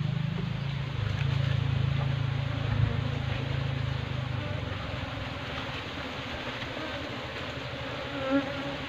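A dense, steady buzz of many honey bees at a small new hive, close by and continuous, with no pauses or voices.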